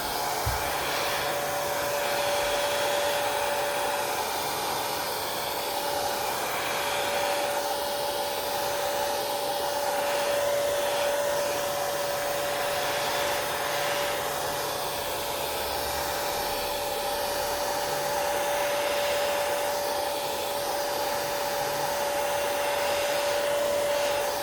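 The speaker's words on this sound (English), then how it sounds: "so I'm going to use my hair dryer" Hair dryer blowing to dry a coat of background paint on a woodland creatures painting: a steady loud whooshing airflow with a fixed motor whine, unbroken throughout and with no voices.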